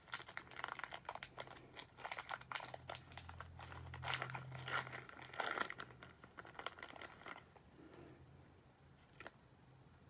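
Packs of baseball trading cards are torn open and handled close by, with soft crinkling and rustling wrapper sounds in quick bursts and a quiet background.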